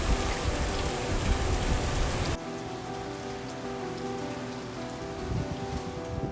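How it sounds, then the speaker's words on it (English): Rain falling on a window pane, a steady dense hiss of drops that thins and drops in level partway through, then continues softly with no voices. "The rain that dances on my window pane"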